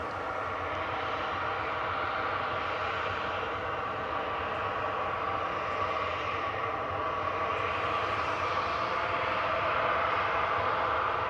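Cathay Pacific Airbus A350-900 at Manchester Airport, a steady broadband jet engine roar holding at an even level throughout, slightly swelling toward the end, with no talk over it.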